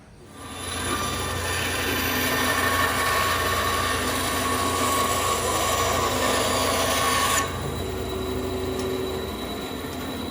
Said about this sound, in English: I'll go to the bandsaw now and just make a cut right there.